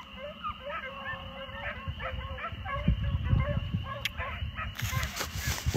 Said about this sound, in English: Hearing puppies just getting after it.